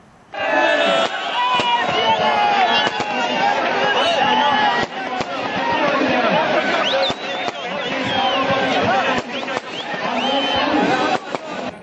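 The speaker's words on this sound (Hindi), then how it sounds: "रावण दहन के बाद आकाशीय आतिशबाजी भी की गई।" Aerial fireworks bursting after the burning of a Ravana effigy at a Dussehra celebration in Jodhpur, repeated sharp cracks and pops over a loud, continuous crowd hubbub.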